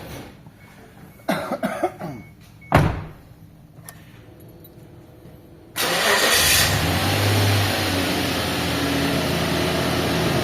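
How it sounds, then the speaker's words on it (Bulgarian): A Suzuki Vitara's engine cranks and catches, then settles into a steady, loud close idle that continues to the end, preceded by a few scattered handling clicks and knocks. "мога да запалим и колата"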